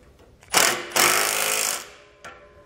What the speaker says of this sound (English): you can go ahead and tighten down this bolt